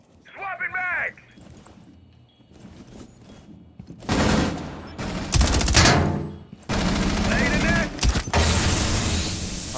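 Rapid bursts of gunfire from a tactical shooter video game crackle loudly in dense volleys, mixed with mechanical clicks, while a commentator talks over the action.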